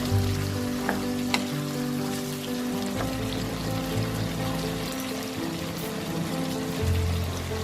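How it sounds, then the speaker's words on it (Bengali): Spice masala for a raw jackfruit kofta curry fries in a pan as it is stirred, with an even crackling sizzle, occasional sharp clicks of the spoon, and a low steady hum underneath. "মশলাটাকে ভালো করে মিশিয়ে নেব।"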